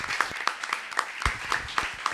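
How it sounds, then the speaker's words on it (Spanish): Audience applause at an international literary congress, a steady patter of clapping from a room of people with sharper individual claps standing out, moderately distant. "Les pido para todos ellos, para los expositores y para ustedes el aplauso más grande que hayan dado"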